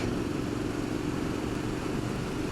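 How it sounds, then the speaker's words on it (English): A steady engine rumble runs nonstop, a Street Scrambler motorcycle's exhaust droning at a constant idle-like pitch, fairly close and without speech. "Great sound from the exhaust."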